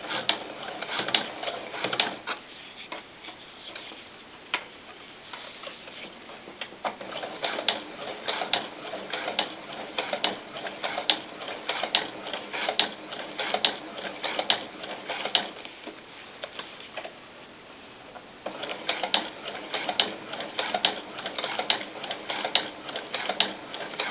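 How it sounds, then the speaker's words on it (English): A sewing machine top stitches doll snakeskin boots at close range, a steady rapid mechanical rattle that runs in long bursts with a brief pause near the start and another short break partway through. "So I'm going to do that top stitching again"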